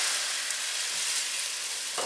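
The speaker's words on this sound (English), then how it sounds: "get ready for a loud sizzling sound" Dry white Sauvignon Blanc wine hits a hot pan for chicken piccata, giving a loud, steady, close sizzle and hiss that lasts the whole two seconds.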